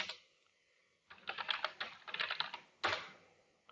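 Typing on a computer keyboard: quick bursts of close, crisp keystrokes after a brief pause, then a final sharper key press, with no talking.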